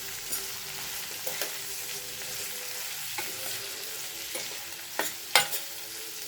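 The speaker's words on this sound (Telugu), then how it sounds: "ఇంకా కంప్లీట్ సిమ్లో ఫ్రై అవ్వనియండి." Food fries gently in a pan over a low flame, giving a soft, even sizzle with occasional sharper crackles and stirring clicks, close and steady with no talking.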